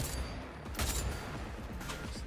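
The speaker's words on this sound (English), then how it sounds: "Got a good sound to it, got a good crack. It's like a decent rifle." A rifle shot in the video game Cyberpunk 2077, a couple of loud sharp cracks with a rolling echo over a dense game soundscape.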